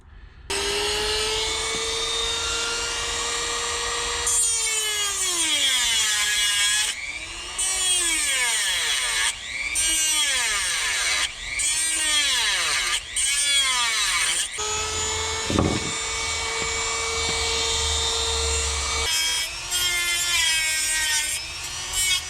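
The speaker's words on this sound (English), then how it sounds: "we're gonna have to grind this apart." An angle grinder cuts apart a metal part during an ATV repair, its high whine swooping up and down as it bites and eases off in repeated bursts, loud and close with short pauses and no talking.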